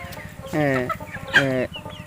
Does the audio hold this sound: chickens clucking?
yes